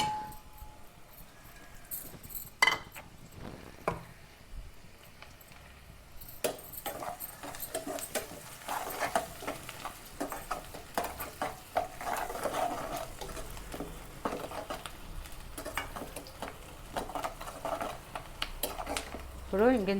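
Onions fry golden for an egg dum biryani, with a quiet sizzle under repeated irregular scraping and clinking of a spoon against the pan, and someone speaking briefly in the background.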